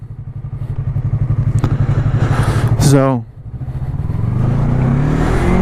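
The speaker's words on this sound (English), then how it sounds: "I like to rev. I like revving up." A Yamaha R3 motorcycle engine idles with a steady rapid pulse, then a quick blip sends the revs sweeping up and back down before settling again; close and loud, with a brief spoken word.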